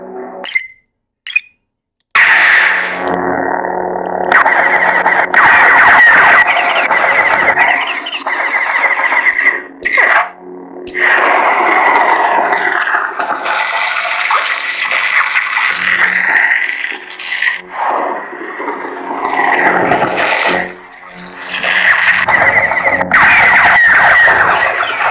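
A Neopixel Obi-Wan Kenobi lightsaber running the Golden Harvest v3 sound font produces loud, continuous humming and crackling effects, with a few sharp clicks at the start and surging swings and clashes throughout.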